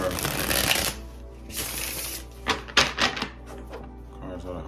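Tarot cards are shuffled close up, a long riffling burst followed by shorter flicks and taps, with a voice speaking softly underneath.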